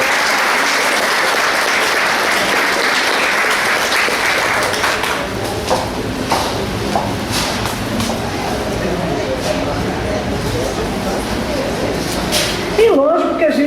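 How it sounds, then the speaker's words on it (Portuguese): A sustained round of applause fills a Masonic lodge ceremony honouring a guest, with voices murmuring through it; the clapping thins slightly toward the end, where a voice briefly comes through. "Uma salva de palmas também."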